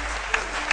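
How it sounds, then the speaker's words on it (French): A studio audience on a midday TV show claps for a guest, a steady wash of applause heard over a low hum, with a couple of brief sharper accents. "On applaudit très fort"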